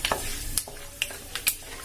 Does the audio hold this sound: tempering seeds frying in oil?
yes